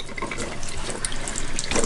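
Tap water runs steadily into a sink as raw chicken wings are washed for a Nepali roast chicken meal, a close, continuous splashing flow with no talking.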